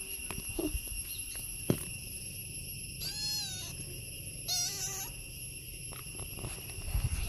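A cat meows twice in short rising-falling calls, close by, against a steady high electronic hum and faint room noise, with no talk.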